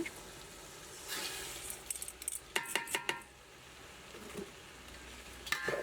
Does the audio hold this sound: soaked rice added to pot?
yes